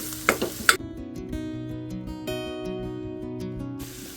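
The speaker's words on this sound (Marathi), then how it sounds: "दोन एकदा हलवून घेऊ." A spoon stirs masala frying in a pan, scraping with a few sharp clinks near the start and then a steady, close sizzle running underneath, with no talking.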